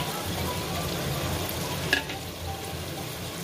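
Vegetables for biryani fry in hot oil, a close continuous sizzle with a soft scrape of stirring and one sharper clink midway.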